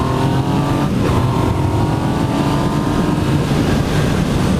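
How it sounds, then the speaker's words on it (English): A 2018 Yamaha MT-09 motorcycle engine running, a loud, steady, throaty drone heard close up with no talk. "But I turned the bike on and it made me happy."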